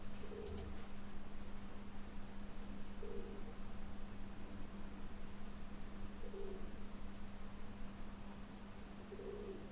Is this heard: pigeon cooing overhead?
yes